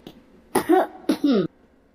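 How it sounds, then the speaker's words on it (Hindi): Two short, soft coughs close by, separated by a brief pause, heard alone against a quiet background. "हल्के से खांसने की आवाज आई।"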